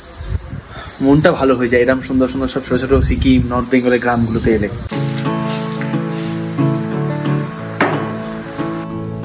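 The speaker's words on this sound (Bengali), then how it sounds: "এখানে ঝিঝি পোকা ডাকছে কেবল তারই আওয়াজ" Steady high-pitched chirring of crickets in Lingtam, a quiet village in East Sikkim, running throughout, with someone speaking over it in the first half before the insects continue alone.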